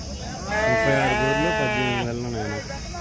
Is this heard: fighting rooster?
no